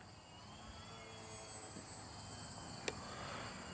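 An FMS Ranger 1220mm electric RC airplane flies overhead with a steady, fairly faint motor whine and a hum that continues throughout, and a sharp click partway through.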